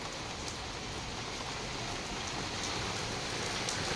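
Steady rain falling on a surface, a constant even hiss with scattered droplet patter, no voices.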